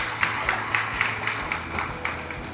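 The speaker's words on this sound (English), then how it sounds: "Round of applause" An indoor audience at a Brampton bus funding announcement breaks into a short burst of steady clapping, a moderate round of applause lasting a couple of seconds.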